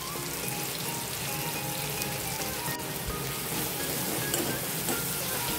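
Stuffed brinjals sautéing in a pan on a gas stove, giving a steady, close hiss and crackle of hot oil with faint stirring clicks, continuous and even throughout.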